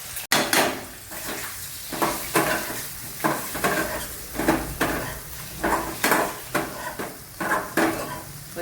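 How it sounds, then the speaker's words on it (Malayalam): Peeled boiled eggs and turmeric powder sautéing in oil in a pan for egg curry, a spatula scraping and stirring in repeated rhythmic strokes over a constant close sizzle. "ഒരു മിനിറ്റ് പിന്നെ ഈ മഞ്ഞളിലൊന്ന് വഴറ്റിയെടുക്കുക"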